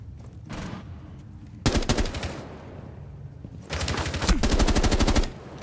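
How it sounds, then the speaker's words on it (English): Automatic gunfire in the Rainbow Six Siege video game comes in two loud, close rapid-fire bursts separated by a quieter gap. No speech is heard. "David, what was that shooting?"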